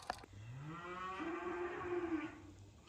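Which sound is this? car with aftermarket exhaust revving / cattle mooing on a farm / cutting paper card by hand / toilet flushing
cattle mooing on a farm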